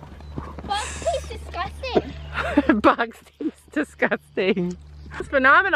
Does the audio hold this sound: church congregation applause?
no